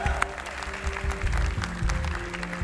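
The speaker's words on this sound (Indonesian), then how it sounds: "Kita boleh kasih tepuk tangan sekali lagi." A studio audience at a magic show applauds magician Robby Constantine on stage, a short burst of clapping with crowd noise and a voice underneath.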